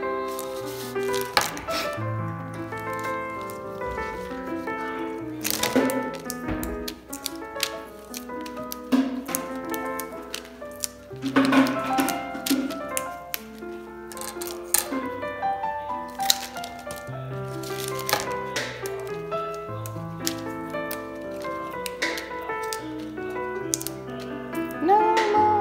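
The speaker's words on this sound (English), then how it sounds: "I'm just going to cut all of my stems the same size to make sure that they fit into the vase." Scissors snip through flower stems being trimmed to one length for a vase, a series of crisp, close cuts over a background of soft music-like tones and rustling.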